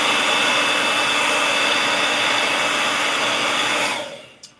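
A hair dryer blows a loud, steady roar close by while drying paint on a small canvas, running continuously before quickly switching off near the end.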